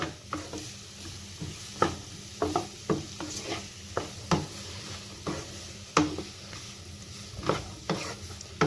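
Chopped onions with salt sauté on a high flame in a pan for Kerala-style chicken curry, a steady close sizzle broken by regular scraping strokes of a stirring spoon, with no talking.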